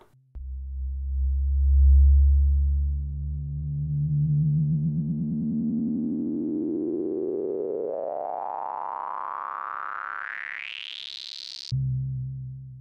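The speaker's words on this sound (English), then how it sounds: "Let's modulate the VCF with the envelope as well and put it into bandpass this time." A Roland Jupiter 6 analog synth tone with its VCF in bandpass mode and modulated by the envelope, a single sustained note whose filtered tone sweeps steadily upward over about twelve seconds to a bright whistling peak, then cuts off abruptly, heard alone.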